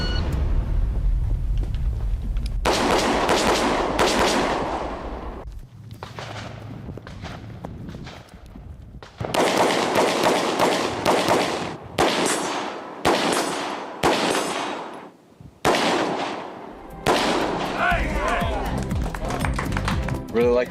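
Gunfire at a firearms shooting competition, with bursts of loud close shots and clattering impacts separated by quieter stretches, and people talking in between.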